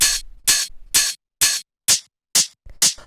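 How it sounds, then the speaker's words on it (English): Open hi-hat sample for a modern techno track, layered from two sounds, hit seven times in an even pulse; each hit is a loud, bright, airy hiss with a sharp start that rings briefly before cutting off, heard on its own. "And then we have the open hi-hat"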